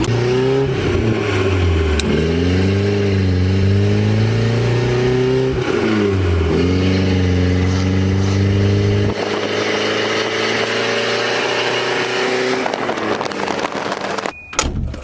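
A manual-swapped Volvo 240 engine idles loud and close, with steady harmonic rumble and repeated rising revs around the start and middle, then settles to an even idle before a brief clatter at the end.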